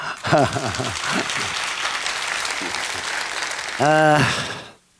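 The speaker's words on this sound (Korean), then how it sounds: "손뼉 소리 받아본 지 참 오랜만입니다." An audience at a pansori performance claps in a sustained burst of applause, loud and close, with voices heard at the start and end before it cuts off.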